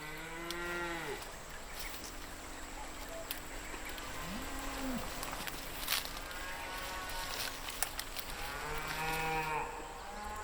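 Cattle grazing in overgrown woodland moo several times, with long drawn-out calls at the start, middle and end, set against a steady background hum and occasional rustling.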